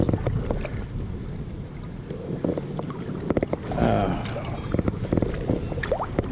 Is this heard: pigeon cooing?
no